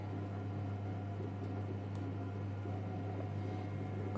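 A Monsieur Cuisine Connect cooking machine runs at 120 degrees in reverse while cooking a pinto bean stew, giving off a steady low motor hum with faint bubbling, even and unbroken throughout.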